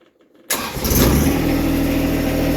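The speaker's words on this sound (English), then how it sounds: "we are ready to start the tractor back up." After a brief quiet moment, a tractor engine cranks and catches, then settles into a loud, steady diesel idle with a low rumbling throb.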